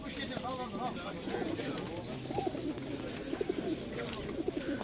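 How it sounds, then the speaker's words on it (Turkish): Pigeons coo repeatedly in a low, rolling chorus at the Edirnekapı bird market in Istanbul, with people talking nearby amid general crowd bustle. "Tezgah kuş dolu."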